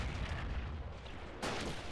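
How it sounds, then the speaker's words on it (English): A single artillery shell firing in the WWII strategy game Men of War: Assault Squad 2, a muffled boom with a sharp crack near the end of a low, rumbling battlefield background. "Let me fire one shell."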